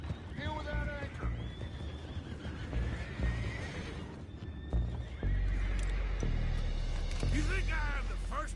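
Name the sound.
horses neighing and hooves, from video game Red Dead Redemption 2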